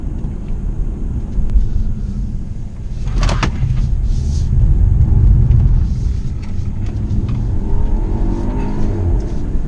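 A 2018 BMW 530i M Performance sedan accelerating hard over a very rough road, with a loud, steady engine and road rumble that swells in the middle and stays strong throughout, with no talking.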